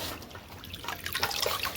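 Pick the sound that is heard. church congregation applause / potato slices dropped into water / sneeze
potato slices dropped into water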